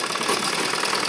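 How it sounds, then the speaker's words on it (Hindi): Electric sewing machine stitching the hem of a kurta sleeve for a school uniform, a steady close whirring run with no pauses and no voices. "और नीचे हम इसी के अनुसार सिलाई लगाएंगे मोरी के"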